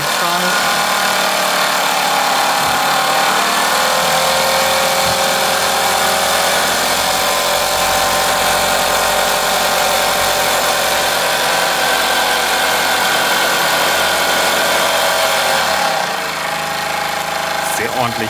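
A Wilesco D222 model steam engine runs at raised speed, a steady, loud mechanical whirring and chuffing drone that holds evenly throughout and eases slightly near the end, with no talk over it.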